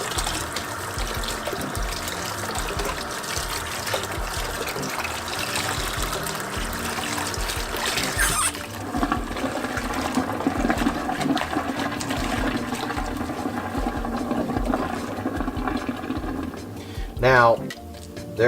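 Water rushes continuously while rinsing out a greasy kitchen fryer, a loud, steady splashing flow that shifts in tone partway through, with a few metallic clinks near the end.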